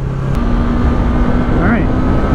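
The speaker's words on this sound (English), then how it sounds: "a short clip of me the other day on the freeway here, so you could see kind of how this bike accelerates on the highway" A Honda Grom motorcycle speeds up on a freeway, its small engine droning under heavy, steady wind rush, with the engine note rising in pitch near the end.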